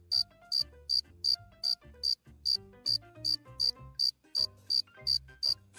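A cricket in an animated children's storybook chirps in a steady, evenly spaced series of about fifteen short, bright pulses over soft background music notes, with no narration.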